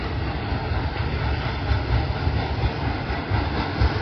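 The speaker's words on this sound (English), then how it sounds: "These will be our last 2 trains of the day." A steady, heavy rumble of rolling rail cars with low engine drone, continuous and fairly close, with no talking.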